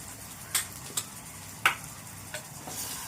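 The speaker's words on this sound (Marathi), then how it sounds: "हे घालून झाल्यानंतर ते तेलामध्ये मसाले चांगले परतून घेतले" Agri masala, coriander-cumin powder and garam masala are stirred in hot oil for a Konkani dried bombil dish, giving a few faint, scattered spatula clicks over a soft, low sizzle.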